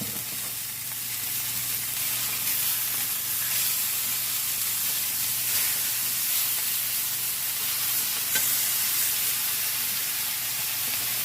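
Steak tips sizzle loudly in a cast iron pan just after flipping, a dense, steady frying hiss that stays even throughout, close up, with no voices.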